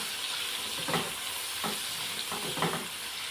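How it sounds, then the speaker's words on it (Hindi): Chopped garlic frying in a pan, a soft continuous sizzle broken by a few scraping stirs, close and fairly quiet, with no one talking. "ये ऐड कर लेंगे लहसुन के। और इसको अच्छी तरह पका लेंगे लहसुन को"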